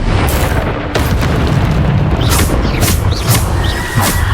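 A Bombarda blasting spell in Hogwarts Legacy, a loud, sustained rumbling explosion with booming bursts over several seconds of combat.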